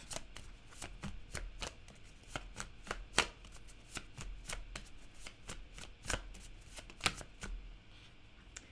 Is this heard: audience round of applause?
no